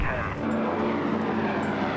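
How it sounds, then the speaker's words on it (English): An old Canso flying boat runs its engines smoothly, a steady loud drone with a low propeller hum and no breaks, filling the whole stretch. "For James, there's a special satisfaction in working so hard to get an old Canso running so smoothly."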